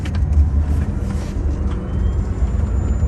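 An electric car driving in rear-wheel drive mode, a steady low road and drivetrain rumble with tyre noise and a faint high whine, heard from inside without talk.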